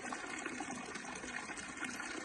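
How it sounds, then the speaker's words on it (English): Groundwater pours into a farm tank, a steady, even rush of running water with no pauses or voices. "so it's filling up"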